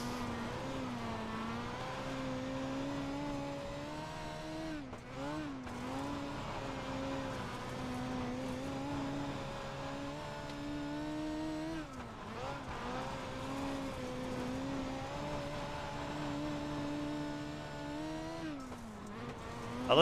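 A dirt race car in the iRacing sim drones steadily for the whole stretch, engine pitch rising and dipping with throttle through the corners, with brief lifts around five and twelve seconds and no talking over it.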